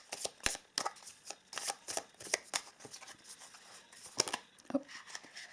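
Oracle-style self-help cards shuffled by hand for a reading, giving a run of quick papery riffles and slaps, close and fairly clear, with no talking.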